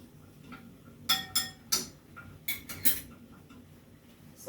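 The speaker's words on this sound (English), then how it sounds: "So I'm just mixing it because the crayon is not melting in here." A utensil stirring melting crayon wax in a pot for homemade candles: a series of sharp metallic clinks and scrapes against the pot in two quick bursts, close and distinct, with no voices.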